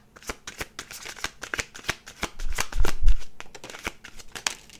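Tarot cards shuffled repeatedly in a close, crisp run of riffling snaps and flutters, with a soft low thump midway as the deck is squared; no talking.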